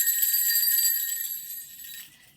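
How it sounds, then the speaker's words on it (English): Sleigh bells shake in a bright, shimmering metallic jingle that holds steady for about two seconds, then fades gradually toward the end, heard alone. "Sleigh bells produce a distinctive jingle sound."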